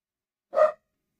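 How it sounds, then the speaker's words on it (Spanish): A single short dog bark, fairly loud and close, rising out of silence. "A ver, si escucha, quiero si se escucha mi perro."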